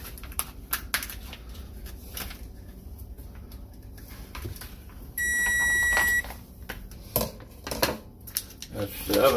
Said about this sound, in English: That's the oven telling me it's up to temperature.